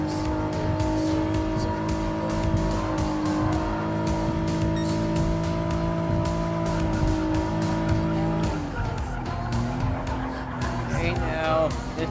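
Nissan Fairlady Z 300ZX twin-turbo FR race car in Gran Turismo Sport, engine droning loud and steady at high revs, easing to a lower note near the end with brief tire squeal.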